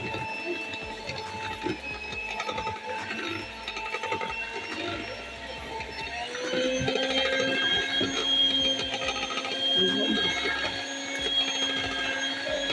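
An electric mixer whirs steadily through muffin batter with lemon juice stirred in, a continuous mechanical drone that grows louder and rougher midway as the beaters work the mix for a marbled chocolate muffin.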